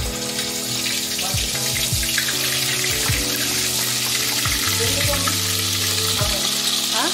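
Chicken frying in hot oil for a Marathi sukka chicken gravy, a steady close sizzle that runs unbroken throughout, with a faint tonal hum beneath it.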